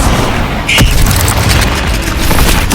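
Levioso levitation spell cast in Hogwarts Legacy, a loud booming blast with a sharp shimmering zap near the start, followed by sustained rumbling magical noise for nearly three seconds.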